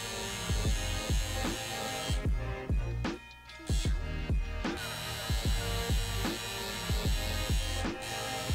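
A rotary tattoo machine runs continuously as it lays down a raked shading pass, giving a steady electric buzz with a rhythmic pulsing hum that briefly drops out once, close and loud.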